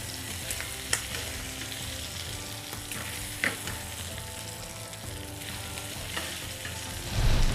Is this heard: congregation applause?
no